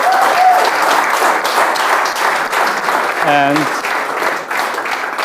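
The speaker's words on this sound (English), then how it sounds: "please give them a big applause" An audience at a student founders' contest midterm event breaks into a full, continuous round of applause that holds loud and steady. A brief voice comes in briefly partway through.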